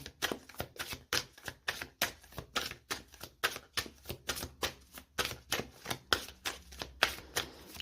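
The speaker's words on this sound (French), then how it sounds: "Allez, on va prendre une deuxième carte." Tarot cards being drawn and handled from a deck, a quick regular run of crisp card snaps and slaps, close and fairly loud, with no talking.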